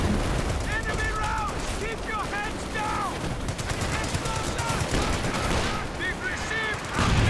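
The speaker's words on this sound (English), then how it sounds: "It's that machine gun, but that keeps getting forced back." Machine gun fire in Company of Heroes 2, a World War II real-time strategy game, chattering in steady bursts within a dense, continuous battle mix while a commentator talks over it.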